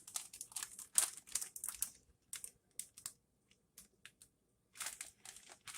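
A plastic zip bag holding London broil in marinade is sealed and pressed, giving a run of quick crinkling and clicking bursts in short clusters with gaps between, close by and fairly quiet.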